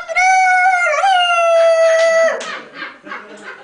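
A voice imitates a rooster crowing with one long, loud, close cock-a-doodle-doo call that rises and holds, then breaks into a few shorter trailing vocal bursts.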